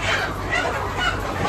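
A group of 13-16-week-old RTL laying hens, ready for delivery, cluck in a short, busy burst of overlapping calls, close by and fairly loud.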